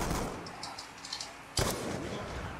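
A single sharp, loud gunshot cracks out midway through a trick-shot match in a video game, standing out over steady background game noise.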